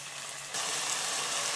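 Green peas fry in a little oil, giving a soft, even sizzle that grows slightly louder partway through, quiet and steady with no talking.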